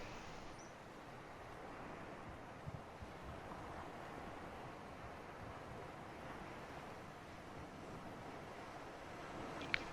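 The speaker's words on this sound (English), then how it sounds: "Listening to the calm, relaxing waves." Calm ocean waves in the underwater survival game Subnautica make a steady, faint, broadband wash with no distinct breaks, heard alone for about ten seconds as an even, airy surf and wind-like hiss.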